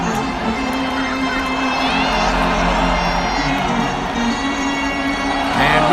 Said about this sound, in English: A raucous crowd from Dodger Stadium in downtown Los Angeles.